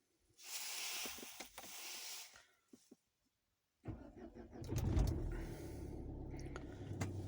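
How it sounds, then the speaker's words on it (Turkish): A Renault Scenic 3 starts: quiet clicks and a brief hiss, a pause, then the engine cranks and catches, settling into a steady idle rumble close by. "Aracı çalıştırıyorum"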